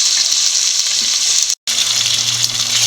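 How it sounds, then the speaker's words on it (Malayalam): Chopped tomatoes fry and are stirred in a pan for a Kerala-style sardine curry, giving a steady loud sizzle with a brief cut partway, then a low hum underneath; no talking. "ഇന്ന് നമുക്ക് അരിഞ്ഞു വെച്ചിരിക്കുന്ന തക്കാളി ഇട്ട് കൊടുക്കാം അതൊന്ന് പകുതി വേവാകുന്നിടം വരെ ഇളക്കി കൊടുത്തുകൊണ്ടിരിക്കുക"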